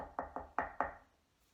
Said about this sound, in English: So when Little Red Riding Hood knocked on the door,